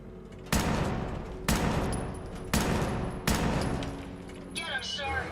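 Four heavy, evenly spaced gunshots boom in Fallout 4, each sharp blast trailing off into a long reverberant tail, loud and close with no talk over them.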